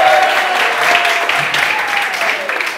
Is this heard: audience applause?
yes